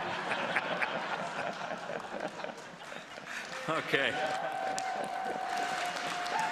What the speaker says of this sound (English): I'll allow the applause